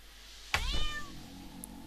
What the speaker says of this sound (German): Sorry für die Katze.